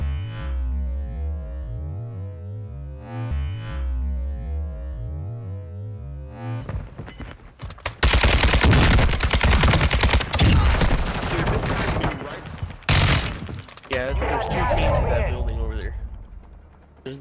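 Rapid automatic gunfire and mechanical clatter erupt in a shooter video game, loud and dense bursts after a stretch of talk, with voices chatting over the action.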